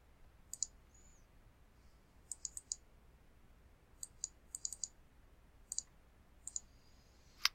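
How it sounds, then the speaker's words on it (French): Computer mouse button clicking at a desk, with sharp, close, quiet clicks in small clusters of two or three separated by short pauses over a near-silent background. "Je relâche le bouton de la souris."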